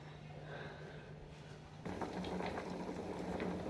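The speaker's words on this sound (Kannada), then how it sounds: "ಈ ಕಡೆ ಬಂದು ರೈಸ್ ಕೂಡ ಕುದೀತಾ ಇದೆ, ನೋಡ್ತಾ ಇರ್ಬೋದು." Rice boiling in a pot in a home kitchen gives a soft, steady bubbling that swells noticeably louder partway through, with no voices over it.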